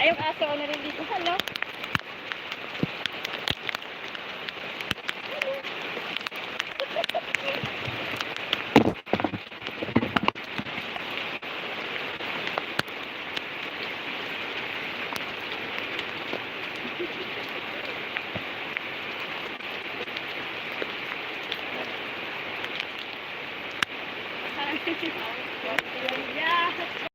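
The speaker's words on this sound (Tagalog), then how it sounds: "Naliligo ako ng ulan." Rain falls steadily outside, a continuous close hiss of drops pattering on surfaces, with a brief louder knock or clatter near the middle, then the even downpour resumes.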